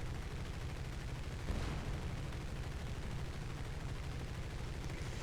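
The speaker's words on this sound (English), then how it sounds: "He's firing now." Aircraft guns fire during a dogfight in the War Thunder combat flight game, a dense continuous rattle of rapid gunfire with a brief louder burst near the start, steady and close throughout.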